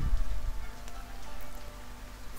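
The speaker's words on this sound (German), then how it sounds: "Oh, es wird dunkel. Es regnet." Rain falls in the video game Foundation as night sets in, a continuous patter with a low rumbling undertone, no voices.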